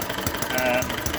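A painted Microcosm M93 (Eachine ET8) model engine on its maiden run keeps up a steady, close mechanical churn with faint rhythmic pulsing.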